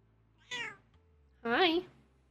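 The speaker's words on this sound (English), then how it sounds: "Cat wants to say hi." A Sims 4 cat gives two clear meows, a short one followed by a longer, louder drawn-out meow after a brief pause, close and alone without talk.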